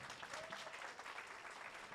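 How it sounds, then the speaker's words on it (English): Faint, dense applause from the audience at a general meeting, a soft continuous patter heard from a distance with no voices over it. "So, one more round of applause."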